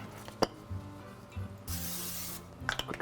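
A short hiss of cooking spray onto a pan bursts out for about a second while making galettes bretonnes, surrounded by faint clinks of cookware in a quiet kitchen.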